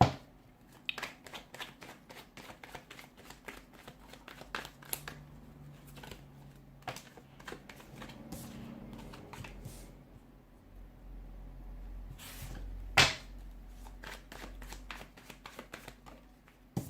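Tarot cards shuffled in repeated bursts of crisp riffling and flicking, close and fairly quiet, with brief pauses and a few sharper slaps, no talking.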